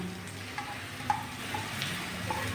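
Crushed garlic and ginger sizzle in a hot pan, a soft steady frying hiss with a few faint clicks of a utensil stirring, no voices over it.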